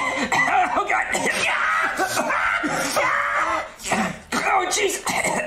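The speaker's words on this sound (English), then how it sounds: "I could not stop coughing." A person coughs and splutters repeatedly after swallowing a spoonful of plain cinnamon, harsh bursts and throat clearing in uneven fits, loud and close, with a brief gap near the end.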